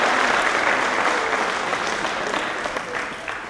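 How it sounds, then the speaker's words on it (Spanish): Audience at a Renacer Chile congress talk applauding loudly at first, a thick burst of claps that gradually thins and fades over three and a half seconds. "Aplausos, aplausos."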